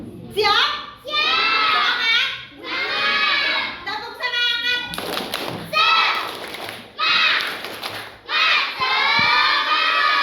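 Schoolchildren in a classroom loudly chant the tepuk semangat clapping cheer in unison, their rhythmic shouting joined by bursts of clapping and thumps.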